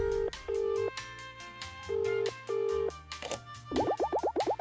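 Telephone keypad tones from a video game, a series of sustained electronic dial beeps with brief gaps, ending in a quick run of bouncing rising tones over a low musical background.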